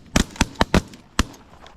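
Shotgun blasts at wigeon during an Oklahoma duck hunt: five sharp, close reports, four fired in quick succession and one more after a short pause.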